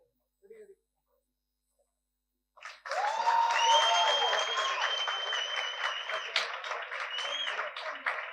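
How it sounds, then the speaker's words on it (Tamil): At a short film event, silence gives way to a sudden burst of audience clapping, with several shrill, sliding whistles rising above it and continuing loudly to the end. "இந்த கைத்தட்டலும் விசில் சத்தமும் இங்க இருக்கிற எல்லா கிரியேட்டர்ஸ்க்கும் தொடர்ந்து கிடைச்சிட்டே இருக்கணும்"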